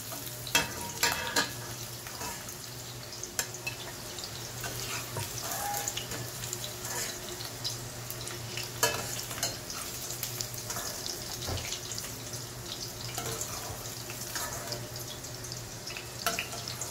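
Half a cup of cashews fry in a pan until lightly golden, with a continuous sizzle, scattered crackles and a low steady hum underneath.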